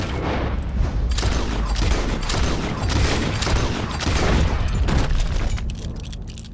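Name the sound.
gunfire in the video game Red Dead Redemption 2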